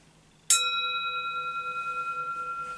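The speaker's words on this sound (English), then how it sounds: "to strike a bell and make it sound good, I have to let go and strike it in a flowing way" A single bell struck with a smooth, flowing stroke gives a crisp click at the attack, then a clear ringing tone with gently beating overtones that sustains and slowly fades, close and alone.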